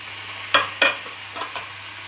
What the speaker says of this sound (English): Now I am adding the squash